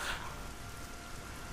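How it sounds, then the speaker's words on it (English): Heavy rain in a video game, a steady broadband hiss of downpour continuing throughout at a moderate level, slightly louder at the very start, with no voices. "And it is raining quite hard."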